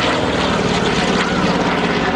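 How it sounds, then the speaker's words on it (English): Propeller warbird at a beach airshow droning loud and close, a steady rough engine roar with pulsing propeller beats and no talk over it. "Taking to the sky with her payload loaded and ready to go on the Stuka dive bombers used by the Germans."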